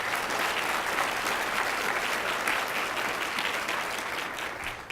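Audience applause at an annual executive forum on diversity and inclusion, steady, dense clapping from a large crowd sustained for several seconds before tapering slightly.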